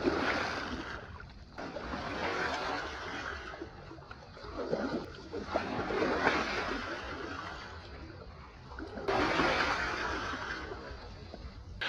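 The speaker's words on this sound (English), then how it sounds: "we're using the paddles of our raft to splash the water" Raft paddles splashing sea water at night off a bioluminescent beach near Cape Canaveral, Florida: continuous washing and sloshing with repeated swells of splashing, fairly close, with no voices.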